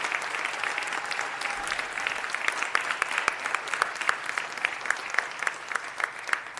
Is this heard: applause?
yes